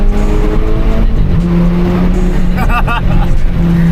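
A BMW M2 with a compound-turbo N55 engine drones steadily at close range, rising in pitch partway through, with a brief high squeal near the end.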